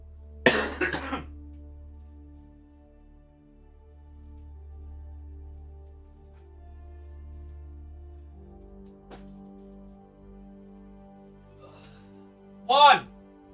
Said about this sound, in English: You're going to hear that I'm coughing my guts up.